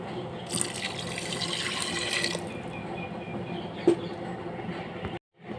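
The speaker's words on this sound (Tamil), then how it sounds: "அஞ்சு கிளாஸ் தண்ணி விட்டுக்கலாம்" Water is poured into a cooking pot for a rice and lentil dish, a steady splashing stream for about five seconds that then stops abruptly.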